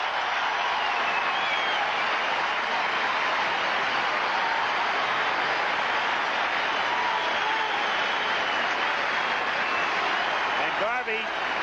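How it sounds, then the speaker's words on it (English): A baseball stadium crowd at Dodger Stadium gives a first baseman a sustained standing ovation, dense applause and cheering roaring steadily throughout with no break. "A standing ovation for the Dodger first baseman."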